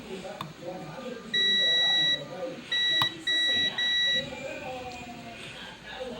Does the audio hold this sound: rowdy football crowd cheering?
no